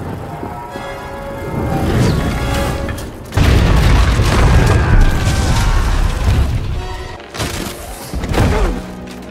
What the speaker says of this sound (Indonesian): bom itu menghantam tempat penyekapan Jones, menghancurkan barak Nazi dan menewaskan banyak prajurit